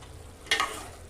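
Chicken frying in a pan for a green chicken dish, with a low steady sizzle that bursts into a brief louder crackle and stirring noise midway before settling back to a constant hiss.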